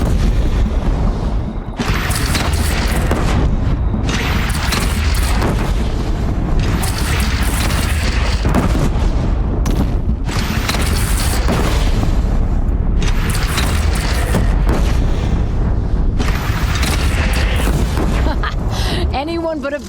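Bandit cannon fire in Horizon Zero Dawn: loud, heavy booms repeat every couple of seconds amid constant battle noise, with brief gaps between blasts.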